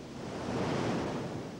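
Storm-driven sea waves and wind in the Strait of Bonifacio between Corsica and Sardinia, where the Mistral blows: a continuous roar of surf and gusting air, dense and unbroken.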